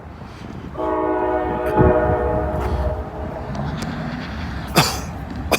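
Freight train NS26C approaches on a cold, windy day, sounding a sustained multi-tone horn for a couple of seconds over the heavy rumble of the passing train, with a brief sharp noise near the end.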